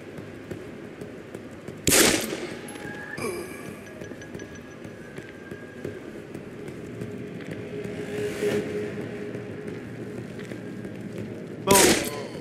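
Gunfire in the video game Deus Ex: Human Revolution cracks out in two sharp, loud shots several seconds apart, with a fainter burst between them over a low background rumble.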